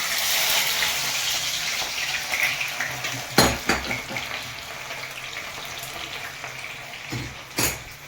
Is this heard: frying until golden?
yes